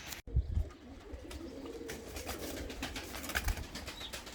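Pigeons coo in a backyard coop, soft repeated throaty calls close by over a low ambient hum, with a brief thump near the start.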